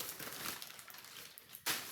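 A plastic bag from a Temu parcel rustles and crinkles close by, a continuous dry crackle that ends in a sharper burst of crumpling.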